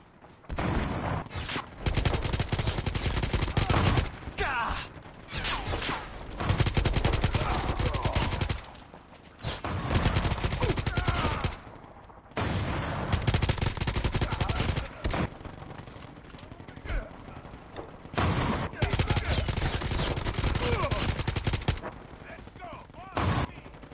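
AK assault rifle in Call of Duty Mobile firing loud, sustained full-auto bursts close up, broken by short pauses between strings of shots.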